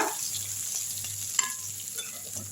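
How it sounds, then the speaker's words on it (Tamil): Beans and carrots sautéing in a pan for sambar give a steady, close sizzle of frying, with stirring scrapes and a sharper clack near the middle, and no talk. "இப்போ வந்து பீன்ஸும் கேரட்டும் போட்டுடலாம் நல்லா வதக்கி விட்ருங்க"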